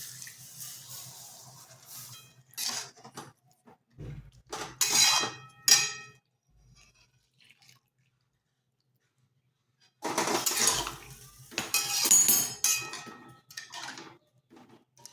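Hot milk is poured into a pan of roasted grated carrot for gajar halwa, with clattering of the pan and utensil against metal and splashing liquid in two bursts separated by a quiet pause.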